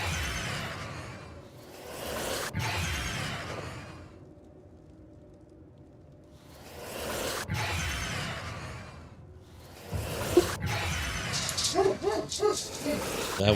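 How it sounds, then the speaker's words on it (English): A pet dog gives a few close barks and whimpers, with quiet gaps between the bursts and a person speaking nearby. "That was my dog, by the way."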